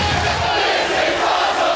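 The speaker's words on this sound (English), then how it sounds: "They're chanting, this is awesome" A pro wrestling arena crowd roars and chants 'this is awesome' in unison during a hardcore match, a dense, loud, continuous wall of voices filling the clip with no single speaker standing out.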